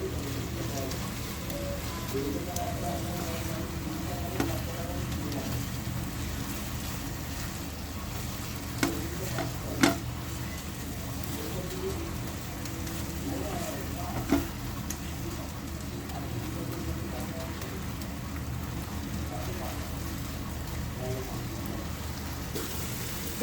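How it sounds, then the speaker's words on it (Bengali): Ginger fries in a pan for a plantain chop filling, with a quiet, steady crackle broken by a few sharp clicks and taps, while a voice talks faintly over it. "আদা ভাজা হয়ে গেছে"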